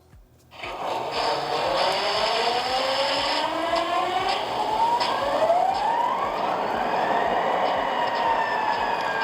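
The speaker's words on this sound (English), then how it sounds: "All right, our diesel's all powered up." A loud diesel engine hum swells up and holds steady as an MTH model diesel locomotive powers up, with a rising whine and bright mechanical tones over a constant rumble.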